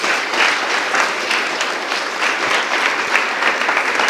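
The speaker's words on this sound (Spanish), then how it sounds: "Denle un aplauso al Señor por eso." A church congregation breaks into sustained, dense applause, an even wash of many hands clapping at steady loudness from start to finish.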